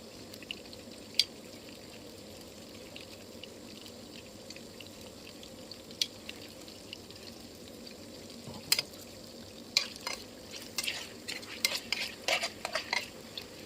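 Marinated pork with garlic and fresh chili sizzles softly in a pan while a utensil stirs and scrapes, with scattered clinks that grow busier and more frequent toward the end.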